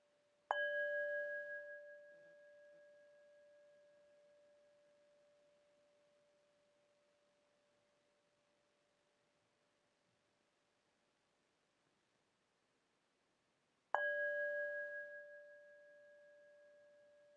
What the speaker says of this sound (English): Noticing the sound of the bell moving